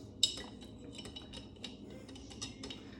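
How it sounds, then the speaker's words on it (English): Ice clinks against glass as a Negroni with large ice cubes and Monkey 47 gin is stirred, giving a sharp opening chink and then soft, scattered taps at close range. "then we're going to give this a little stir."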